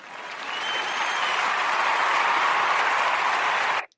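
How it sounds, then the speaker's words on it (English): Studio audience applause swells in over half a second, holds as a full, even wash of clapping, then cuts off abruptly. "Thank you, audience, for that gracious round of applause."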